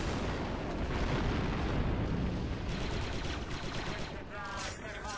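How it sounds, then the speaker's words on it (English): Explosive charge and battle blasts in the video game Star Wars: Republic Commando, a sustained heavy roar of explosions and gunfire, loud and dense, with some voices mixed in. "The charge is set and ready to detonate."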